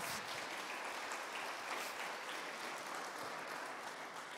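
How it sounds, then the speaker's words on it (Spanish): Applause from a church congregation in Tlapa de Comonfort, Guerrero, Mexico, a dense steady clapping that fills the space evenly from start to finish without any voices. "Denle un fuerte aplauso."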